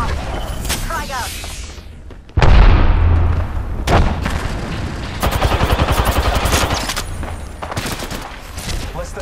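A frag grenade goes off with a loud booming blast in an Apex Legends match, followed by a string of sharp gunshots and rattling automatic fire up close, with an electronic voice line heard beneath the action.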